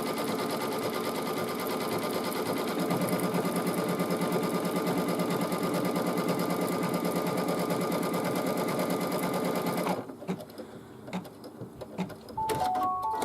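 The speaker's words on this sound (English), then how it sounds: "So that's nice and tacked down now." Sewing machine tacking down fabric for a hooked mug rug, a steady fast mechanical stitching whirr for about ten seconds that then stops, leaving quiet clicks and handling sounds.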